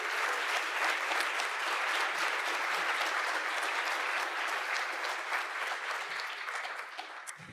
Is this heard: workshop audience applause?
yes